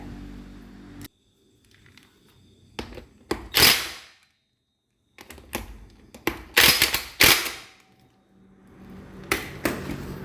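Impact wrench tightening clutch bolts on a Megapro Primus motorcycle: several short, loud bursts of rapid hammering rattle, close by, separated by quiet gaps and lighter clicks of handling.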